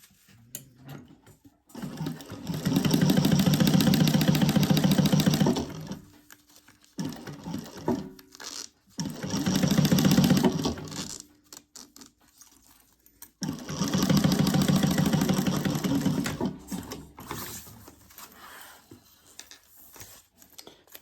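A sewing machine basting the side of a crossbody bag, running in three loud sustained bursts of rapid stitching separated by pauses with handling clicks and fabric shuffling.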